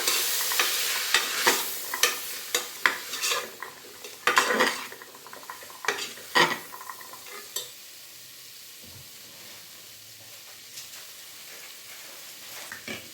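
Chili powder being stirred into masala in a pan while making hotel-style kabuli chana masala, heard as repeated close scraping and clinking of a utensil against the pan with light sizzling, the strokes easing off toward the end.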